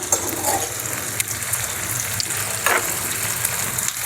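Paneer tikka frying in a pan over a medium gas flame, a steady close sizzle with occasional small crackles, continuous throughout and no talking.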